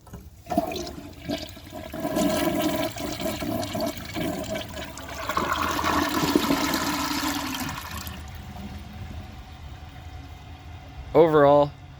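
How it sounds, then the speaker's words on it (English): A 1990s Kilgore low-tank toilet flushes with a loud rushing swirl of water that drains down and fades into quiet trickling, followed by a brief voice close by. "I'm going to go ahead and give that another flush and wash away, hopefully,"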